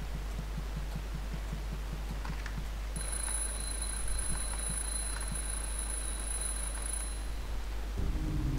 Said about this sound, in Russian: Еще раз отвлекаем его будильником.